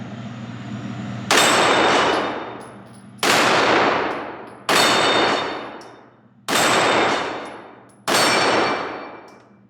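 Glock 34 Gen 4 9mm pistol firing five loud, evenly spaced shots, each sharp report followed by a long decaying echo, about two seconds apart, with no talking.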